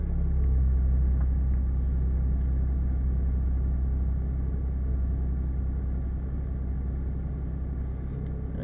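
A car engine idles while warming up, a steady low rumble with a constant hum that stays level and fairly loud throughout, with no voices.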